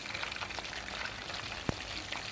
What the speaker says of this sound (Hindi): इसको हम जो है मीडियम फ्लेम पे सारे को फ्राई करेंगे इस तरह से